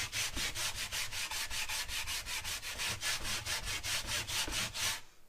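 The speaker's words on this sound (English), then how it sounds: "and then scrub it with the bristles. It's actually done a very good job at getting everything out. You just keep scrubbing until the foam goes away." A bristle brush scrubs car seat upholstery in quick back-and-forth strokes, about twenty rhythmic rasping swipes close by, steady and even until it stops near the end.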